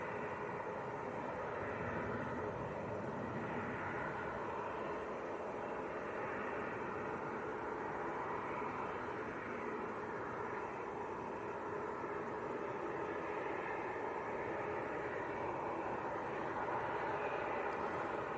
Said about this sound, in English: Right, the PC-24 lined up.